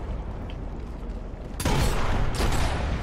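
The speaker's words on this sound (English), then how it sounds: "That shotgun's lethal, man." Shotgun blasts in the co-op shooter Gears of War Ultimate Edition, a loud burst hitting midway and a second blast just after, over a rumbling game background.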